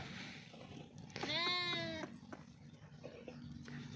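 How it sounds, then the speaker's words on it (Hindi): A goat of a prized breed gives a single loud, quavering bleat lasting under a second, close by, with a quiet background murmur before and after. "ये जी वो लांची जो बकरी है ना मशहूर"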